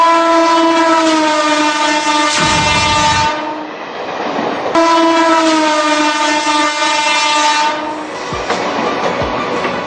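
The Ajmer Shatabdi express runs along with a loud, sustained train horn that sounds twice in long blasts, separated by a brief rumble of the carriage over the rails.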